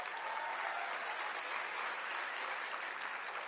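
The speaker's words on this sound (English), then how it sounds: "Round of applause for Benny Boy." A live audience applauds steadily for a guest introduced on stage, a dense, even wash of clapping holding at a moderate level throughout with no voices breaking through.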